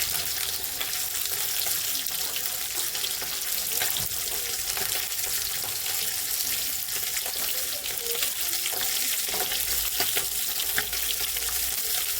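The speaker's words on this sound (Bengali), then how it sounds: "আমার মাছ ভাজা হয়ে এসছে প্রায় শেষের দিকে।" Fish frying in a pan gives a steady, close, crackling sizzle of hot oil that continues unbroken throughout, with faint background clatter and no talking.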